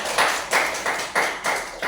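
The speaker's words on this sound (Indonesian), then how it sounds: "Tepuk tangan untuk kita semua." An audience claps in rhythmic bursts, about four sharp rounds of applause in under two seconds, loud and close with no talk.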